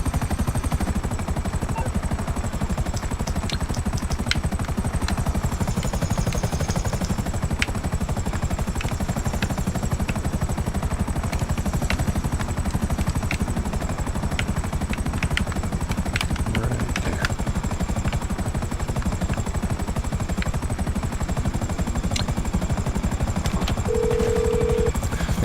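Helicopter in the video game GTA 5 Online, its rotor thudding in a steady, continuous beat throughout with a high turbine whine on top and a few faint pops scattered through it.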